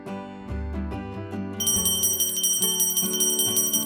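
A magic bell rings out in a cartoon story, a run of bright metallic strikes over music, growing into a dense sustained shimmering peal that keeps ringing to the end.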